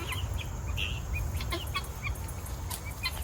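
Backyard chickens, adults among them, cluck and chirp in short scattered bursts close by, over a low steady background rumble.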